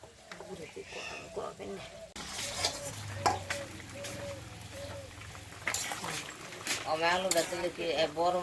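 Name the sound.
bottle gourd leaves added to fish curry, stirring in pan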